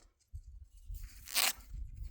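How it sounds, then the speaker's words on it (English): A folding Dispatch Green Axis Lock knife blade rip-cutting lengthwise through a rubber garden hose, a short close tearing, slicing rasp that peaks briefly near the middle amid low handling bumps. "Let's get a rip cut on the garden hose."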